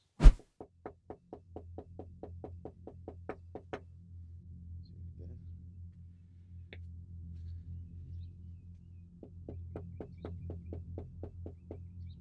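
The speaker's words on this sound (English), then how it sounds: "the first thing we're gonna do is knock on the door and see what happens" Knuckles rap on a house door in a quick run of a dozen or more sharp knocks, then a pause and a second burst of rapid knocks, fairly close and loud over a low steady hum.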